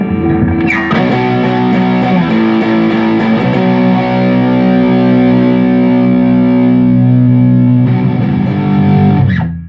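Heavily distorted Gibson Flying V electric guitar through a Diezel VH-4 pedal rings out thick sustained chords, with a brief pick scrape near the start and a final chord change before stopping.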